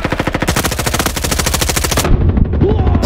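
Rapid automatic gunfire in the Roblox shooter Frontlines, a loud, evenly spaced burst of about two dozen close shots that stops abruptly, followed by quieter game sounds.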